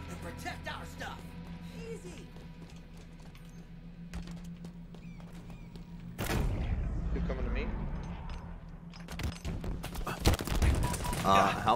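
Gunfire in the game Halo Infinite, scattered shots and bursts of varying loudness building toward the end, mixed with game effects and player chatter over the top.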